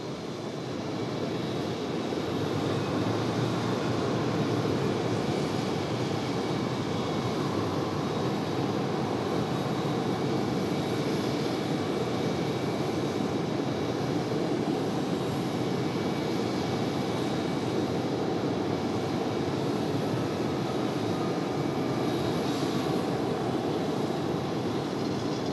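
A FedEx Boeing 767 jet roars steadily through its takeoff run at Raleigh Durham, a loud, sustained broadband rumble and engine whine holding constant with no voices over it.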